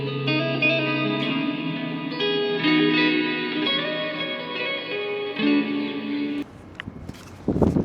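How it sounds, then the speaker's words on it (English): An electric guitar played on the neck pickup through heavy reverb gives warm, sustained chords that blend into a dreamy wash. The playing cuts off near the end, leaving a few scattered noises. "you use the neck pickups like I like to, it's just a very dreamy sound with reverb."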